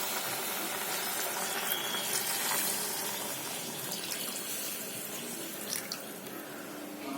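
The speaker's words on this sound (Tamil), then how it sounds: "எக்ஸ்ட்ரா ஒரு 3/4 டம்ளர் தண்ணி ஊற்றிக்கலாம்" Water pouring steadily into a cooking pot for sambar rice, a continuous close splashing wash that holds even for several seconds with slight variation and no talk.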